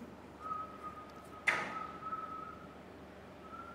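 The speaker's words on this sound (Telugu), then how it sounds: "మనోడు వచ్చిన విజిల్ ఇస్తాడు" A person whistles a steady single held tone at moderate loudness, broken briefly by a sharp knock midway, with a quiet room behind it.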